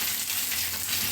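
Dry red chillies, garlic, green chillies and ginger frying in hot oil for a lady finger fry, giving a steady, close, broadband sizzle that runs unbroken and fairly loud with no voices.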